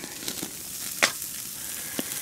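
Pork chops cooking on tin foil over an open fire outdoors in bad weather, a soft continuous sizzle broken by a sharp crackle or pop and a couple of smaller ticks, with no talking.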